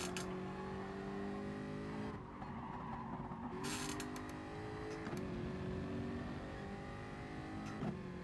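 A Citroen race car in Gran Turismo drones with a steady engine note under the gear shifts and brief pitch drops, its strain and faint tire noise running continuously at moderate level.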